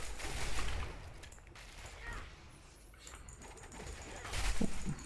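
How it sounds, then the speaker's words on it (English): Trap explosions going off in the action RPG Path of Exile, a dense run of bursts and crackling blasts layered with game effects, loudest near the start and again at the end. "You can just safely stand next to the explosion."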